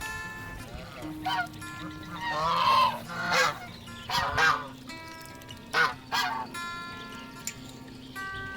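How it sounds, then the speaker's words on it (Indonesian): Geese honk loudly several times in irregular bursts, close by at a park pond, with faint background noise between calls. "Ada angsa juga di sini."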